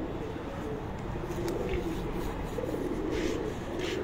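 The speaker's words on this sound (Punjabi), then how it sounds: "ਇਹ ਉਸਤਾਦ ਹਨਾ ਦਾ ਫਿਰੋਜ਼ਪੁਰੀ ਕਬੂਤਰ" A Ferozpuri pigeon coos on a rooftop breeder's loft, low, repeated throaty coos heard close over steady outdoor background noise.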